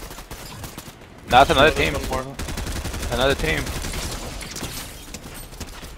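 Gunfire crackles in a shooter video game, with a dense burst of rapid shots followed by scattered, sharper reports, while players talk over the action throughout.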